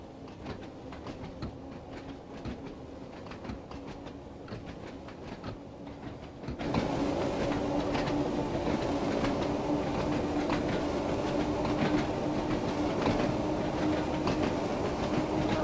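Train running on rails in Train Sim World 2 on the Isle of Wight line in wet weather, a steady rolling rumble with rhythmic wheel clatter that gets louder and fuller about halfway through, with no talk.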